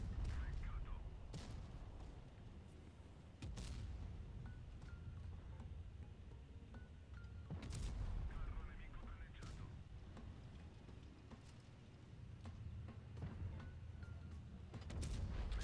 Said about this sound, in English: the single shot from this tank is really good.